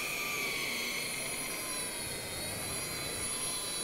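A polishing machine runs at low speed on a boat hull, a steady close whirring drone with a high tonal whine that stays even throughout.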